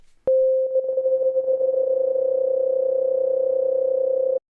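A steady electronic tone whose volume is modulated very rapidly by a high-frequency sine wave, giving a buzzy, warbling quality. It starts abruptly, holds loud and even for about four seconds, then cuts off cleanly.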